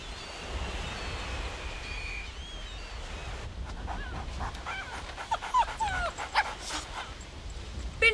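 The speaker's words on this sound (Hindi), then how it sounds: "इस कुत्ते को मेरे सामने से लेके जाओ" A dog in an indoor comedy scene gives a few short yips and whimpering barks in the latter half, after a quieter stretch of background hiss and faint tones.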